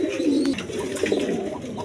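A pair of colored Golla pigeons, male and female, give soft, low cooing calls, close and fairly quiet, repeating in short rolling phrases with no voices.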